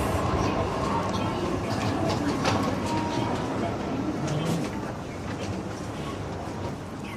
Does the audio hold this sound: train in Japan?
yes